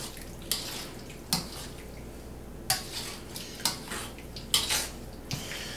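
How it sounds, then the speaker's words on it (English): Buffalo wings being tossed with sauce in a bowl, with a series of clinking, scraping knocks from a utensil against the bowl at irregular intervals over a quiet background. "Now we're gonna take the sauce, throw it in there, and then we're just gonna mix it up."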